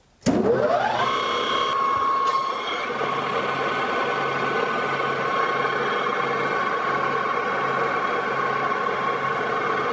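A metal lathe spins up and runs steadily while turning down an arbor head for a Syracuse spindle sander, a rising whine that settles into a constant close machine hum with a faint tonal ring, no voices.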